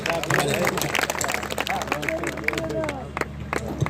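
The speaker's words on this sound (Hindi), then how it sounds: "तालियों से स्वागत करें।" Audience applause at a Hindi poetry recital (kavi sammelan) at a college in Shahjahanpur, India: clapping mixed with crowd murmur and voices talking over it.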